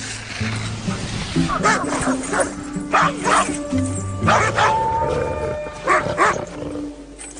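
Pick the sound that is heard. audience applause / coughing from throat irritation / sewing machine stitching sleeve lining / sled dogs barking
sled dogs barking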